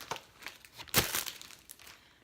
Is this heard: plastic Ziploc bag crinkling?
yes